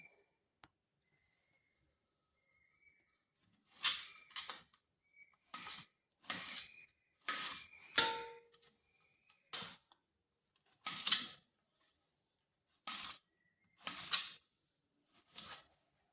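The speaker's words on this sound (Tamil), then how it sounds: "இதே மாதிரி எல்லா தக்காளியும் நறுக்கிக்கிறேன்" Sharp, crisp cuts in short clustered bursts, a knife chopping through firm tomatoes on a board for pickle, separated by pauses of quiet.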